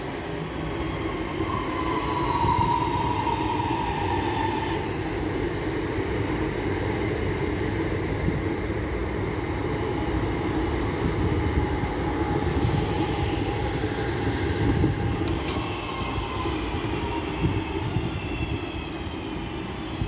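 A British Rail Class 323 electric multiple unit runs from Crewe to Manchester Piccadilly near Manchester Airport, a loud, continuous rumble of wheels on rails with a faint brief squeal, lasting about twenty seconds with no talk.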